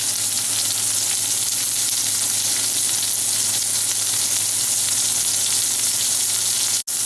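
Beef chuck roast searing in a hot pan gives a loud, steady, unbroken sizzle for several seconds, with a brief sharp dropout near the end.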